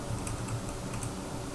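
Someone types a name on a computer keyboard, a quick run of soft, close key taps over a steady background hiss.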